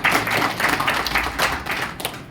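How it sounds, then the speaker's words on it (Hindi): Seminar audience applauding together in a dense burst of claps that holds steady and starts to thin toward the end, close and fairly loud. "20 सर के लिए ताली बजा दो,"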